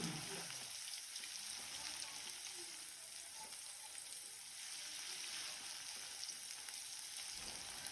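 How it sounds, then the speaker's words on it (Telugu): Ingredients for a chicken and red chilli curry fry in a pan, giving a continuous soft sizzle with faint crackle and no pauses. No one talks over it. "ఇదిలోపు ఇది వేగుతుంది మంచిగా పచ్చివాసన పోయే వరకు ఇది వేయించుకుందాం"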